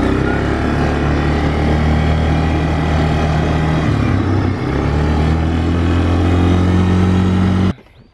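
A quad bike (ATV) driven across farm plots on a late-June crop inspection. Its engine buzzes loud and close, a constant hard drone that stops abruptly near the end.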